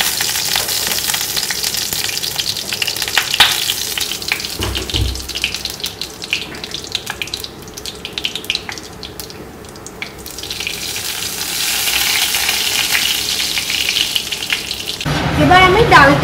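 Radhuni and black cumin seeds sizzle in hot oil for a dal tempering, a steady crackling fry with running water and stirring clatter mixed in, louder toward the end.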